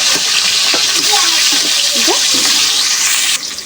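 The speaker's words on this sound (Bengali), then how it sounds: "এপিট ওপিট করে উল্টা পাল্টা লাল লাল করে ভেজে নেব।" Fish sizzling and frying in hot oil in a kitchen pan, turned over side to side until browned; a steady broadband hiss runs throughout with a few faint clinks and scrapes of the spatula.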